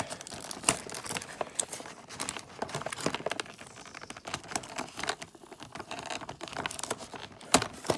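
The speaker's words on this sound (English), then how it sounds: "What if I just peel it away from the tape?" Tape being peeled off plastic toy packaging in a close, quiet series of crinkling and sticky tearing sounds, with irregular snaps and rustles over several seconds.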